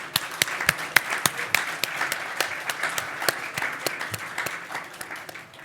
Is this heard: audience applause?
yes